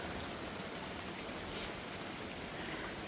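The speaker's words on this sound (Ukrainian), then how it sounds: "Дощик сильний, щось погано сходить вода." Dense, steady rain pours down with a constant hiss and patter, close and heavy, with no voices.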